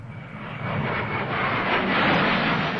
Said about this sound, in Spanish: por orden del general Pinochet, aviones Hunter británicos descendieron en picado sobre el Palacio Presidencial de la Moneda